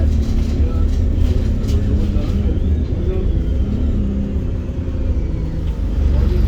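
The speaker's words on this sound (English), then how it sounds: "This is easily the busiest bus that I've been on so far, but it is only a single decker." Inside a moving single-decker bus near Prestwich in Greater Manchester, a steady low engine rumble and road noise persist throughout, with a faint background voice.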